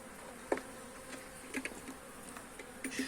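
Honeybees in a wooden hive fitted with five frames give a faint, low buzzing, with a few brief louder passes as individual bees fly close.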